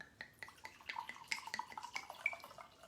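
Vixen and Oso Pardo Tempranillo red wine is poured into a clear glass, a soft trickling gurgle with small bubbling blips, quiet and close, with no talking.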